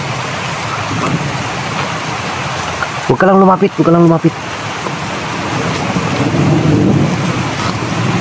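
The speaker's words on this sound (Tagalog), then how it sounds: "ulan pa naman, oh." Rain falling steadily outdoors as a loud, dense hiss throughout, with a voice speaking over it briefly in the middle.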